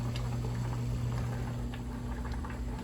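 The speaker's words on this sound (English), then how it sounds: "I've got some water boiling here" Water boiling in a pot on a kitchen stove, a steady close bubbling roar with a low electrical hum running underneath and no talking.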